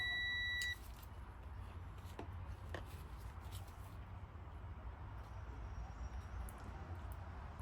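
A multimeter's continuity beep sounds while testing the gray gear position sensor wire on a Honda Foreman 500, a brief high electronic tone at the start, followed by quiet handling clicks and faint background noise.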